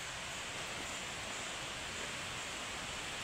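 Steady broadband rush of creek water flowing at a rural spot on an island, a constant close wash with no breaks and no voices.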